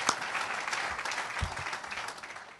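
Audience applause at the opening of a medical simulation center, a steady wash of many hands clapping at moderate volume that carries evenly from start to finish.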